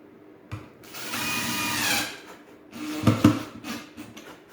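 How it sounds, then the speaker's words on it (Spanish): Manual screwdriver driving a screw into a telescopic drawer rail during drawer installation, heard as a close burst of scraping, ratcheting turns followed by a couple of sharp knocks, with no talk. "con este atornillador manual, bajarlo un poquito para que quede bien centrado"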